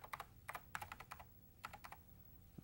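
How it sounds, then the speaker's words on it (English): Keys clack on a computer keyboard in short bursts, several quick taps grouped together with brief pauses between them, close and fairly quiet with no talking. "find where Rick lives by typing in Rick and pressing the Find button."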